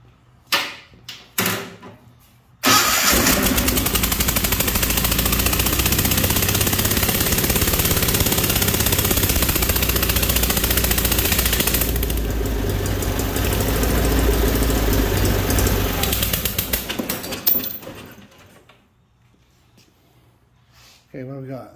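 Onan engine on a 1988 John Deere 318 P series garden tractor, with a compression leak, cranks briefly, then runs loud and steady for about fifteen seconds before shutting down. Speech is heard around it.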